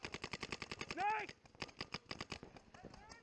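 Rapid paintball marker shots crack in a steady, fast rhythm during a tournament game on an NXL Sunshine State Major field, fairly faint, with a brief voice partway through.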